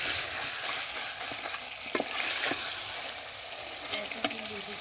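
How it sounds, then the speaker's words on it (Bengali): Homemade curry of home-raised rooster frying in a pan, a steady sizzle with intermittent scraping stir strokes, fairly close and moderately quiet. "আর একটু ভালোভাবে কষে নিই।"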